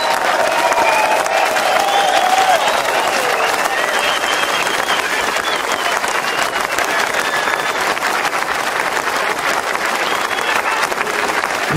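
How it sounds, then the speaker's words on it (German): Loud, roaring crowd applause at the Rigi-Schwingen 2022 Swiss wrestling festival winners' ceremony on the Rigi, continuous and dense with a few cheers and shouts mixed in. "einen riesengroßen tosenden Applaus spenden"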